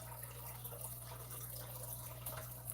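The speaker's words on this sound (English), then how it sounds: "But I assure you it's my fish tank in the background." Water trickles softly and steadily from a home fish tank, a faint continuous wash with a low steady hum underneath and no talking.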